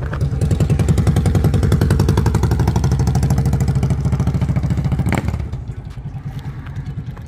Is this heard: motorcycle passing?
yes